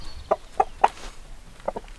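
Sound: chickens clucking

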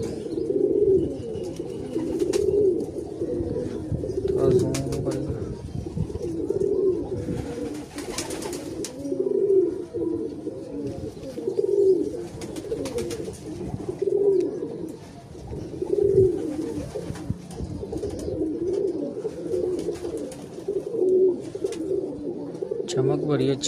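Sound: pigeon cooing

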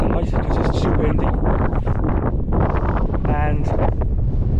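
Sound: strong wind on a mountain

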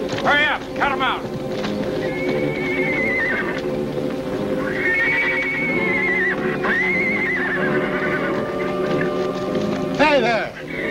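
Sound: horses

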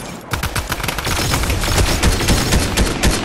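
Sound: gunfire in Fortnite video game

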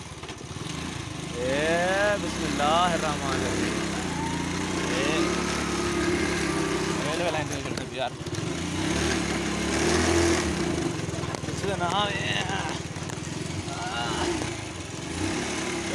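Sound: motorcycle engine started and running

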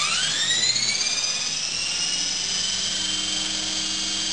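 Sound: Honey Bee King V2 RC helicopter rotor spinning up

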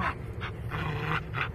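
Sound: dog panting

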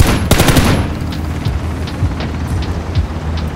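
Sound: gunfire in a video game

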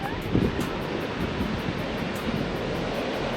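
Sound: large ocean waves on a black sand beach in Iceland

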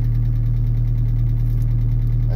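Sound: car engine idling with Cherry Bomb muffler exhaust

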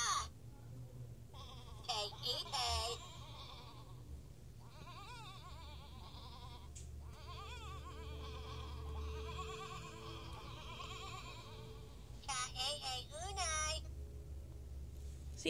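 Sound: sheep bleating sounds from a Furby toy

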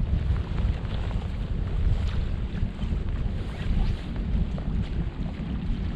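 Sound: wind blowing into the microphone at a lake

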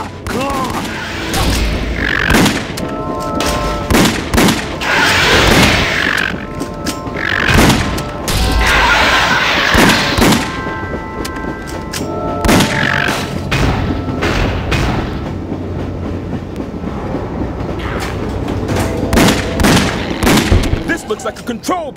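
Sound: gunfire shooting at a claw in The House of the Dead Overkill video game

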